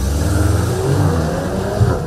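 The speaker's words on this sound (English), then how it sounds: "you'll get a purposeful exhaust burble that sounds promising" Volkswagen Golf R hot hatch with 320 PS, its exhaust burbling loudly as it accelerates hard from a launch-control start, a steady dense engine roar running throughout with no speech.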